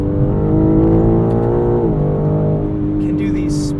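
A 2021 BMW M3 Competition on street tires pulls hard around an entrance ramp, its engine droning loud and steady from inside the cabin, the pitch easing slightly partway through.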